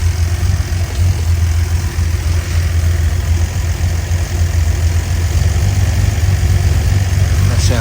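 A Holden Torana LC GTR XU1 engine idles steadily after a carburettor timing adjustment, a loud, continuous low rumble held close and unbroken throughout.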